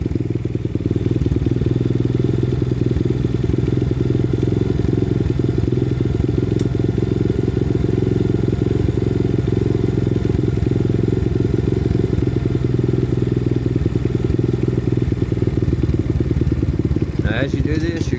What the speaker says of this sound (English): as soon as you give it throttle, you hear it